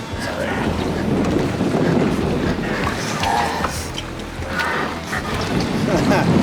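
Strong wind buffets the microphone outdoors on open water during a kayak fishing outing, a steady low rumbling roar that continues for the whole stretch with little letup.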